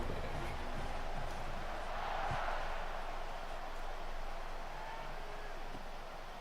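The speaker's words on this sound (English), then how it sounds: "this crowd is buzzing after that last score" A stadium crowd in the College Football 26 video game keeps up a steady, dense roar and murmur after a score, with no lull and a slight swell midway.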